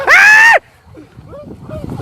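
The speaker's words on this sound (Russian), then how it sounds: "В этот момент мужчина кричит от страха" A man screaming in fear during a wolf attack in Kazakhstan, one loud, strained cry lasting about half a second, followed by faint, muffled noise and distant voices.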